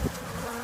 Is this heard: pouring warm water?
no